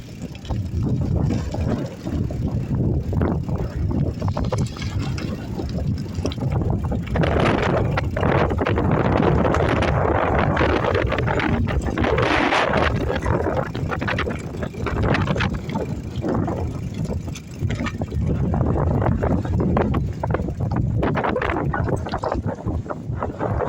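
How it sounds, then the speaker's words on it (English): Strong wind buffeting the microphone while bikepacking on Texada Island, British Columbia, a steady loud rumble and roar that continues throughout with gusty surges. "Oh, it's so windy."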